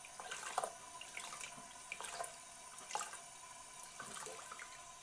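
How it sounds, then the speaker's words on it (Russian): Hand-knitting yarn rinsed in warm water in a sink, giving intermittent splashes and drips over a soft running-water background, fairly faint and close, with no talking. "Теперь я ее немножко прополощу."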